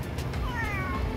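A cat on Ulleungdo island gives one short, rising-and-falling meow close to the microphone, over a low background rumble.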